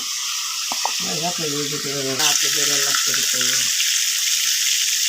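Rohu fish goes into hot spiced oil and a loud, steady sizzle bursts up midway. A person talks briefly just before and over the start of the frying.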